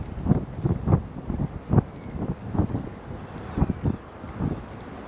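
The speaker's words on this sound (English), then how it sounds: "But that wind's picking up a bit more now." Gusting wind over open water at a bass fishing spot, rough buffeting microphone rumble in repeated bursts, loud and close, with no talking.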